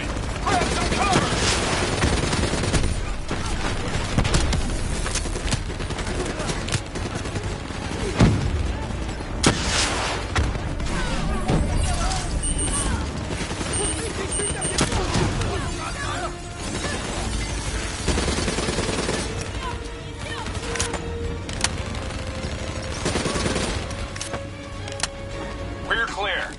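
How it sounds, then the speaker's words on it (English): Heavy turret gunfire in the Black Ops 3 video game campaign: long, rapid bursts of automatic fire and sharp impacts, loud and close, pounding almost without pause amid other battle noise and possible voices. "Heads down! Turret! Grab some cover!"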